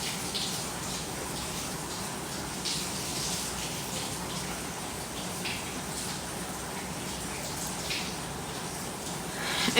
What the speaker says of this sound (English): It's not rain, it's the shower.